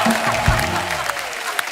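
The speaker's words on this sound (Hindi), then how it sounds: "दोस्तों अगर दिल से मजा आया तो दिल से तालियां होनी चाहिए आज" A studio audience at a televised comedy talk show claps in a dense, even burst of applause that fills the room without letting up.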